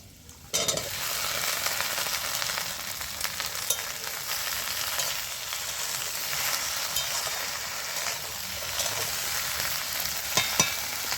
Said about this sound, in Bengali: পেঁয়াজটা আমার হালকা করে ভাজা হয়ে গেছে, এবার আমি ভেন্ডিটা দিয়ে দিচ্ছি।